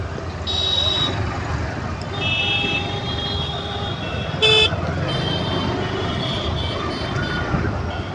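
Road traffic beside a vegetable market, with several short car horn toots sounding over a constant engine and road rumble.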